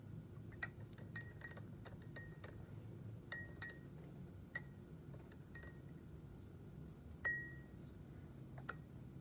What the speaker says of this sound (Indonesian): Satu sendok makan garam kita masukkan ke gelas pertama.